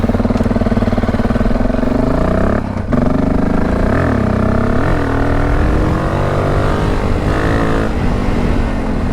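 A motorcycle engine runs close by, steady and loud, with a brief dip near the three-second mark and a few quick revs rising and falling over the constant drone.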